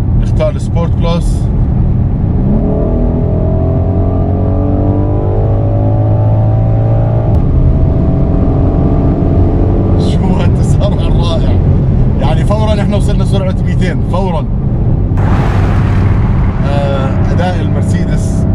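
A Mercedes-AMG GLC 63 S SUV engine revs and pulls hard as it accelerates on the autobahn in Sport Plus mode, rising through the gears with a steady roar, while people talk over it at times.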